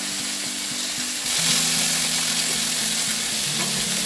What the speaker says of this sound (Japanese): また違う面を焼いていきます